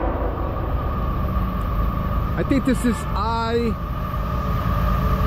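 A westbound CSX train rolls past on track one with a steady heavy rumble throughout, while a voice speaks briefly over it in the middle.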